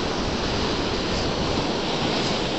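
Small waves roll onto a sea shore in a steady, dense wash of surf noise, with wind mixed in and no voices.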